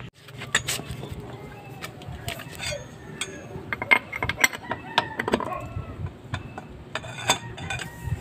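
Wheel lug nuts loosened with a wrench on a car being serviced for a brake pad problem: irregular metallic clicks and ratcheting clanks, close by, with someone talking intermittently over them.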